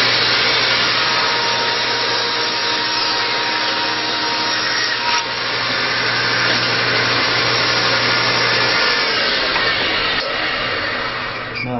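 Table saw cutting a piece of wood, guided by a miter gauge, with a loud, steady roaring whine that holds throughout and shifts slightly in tone near the end.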